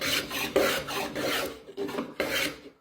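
A hand plane rasps along the edge of a wooden board held in a vise, cutting a 45-degree chamfer in several long strokes with short pauses between passes; the sound is close and steady.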